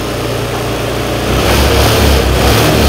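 Honda Vario 110 scooter engine running without a battery, idling steadily then revved up partway through into a louder, sustained drone, close, no talking.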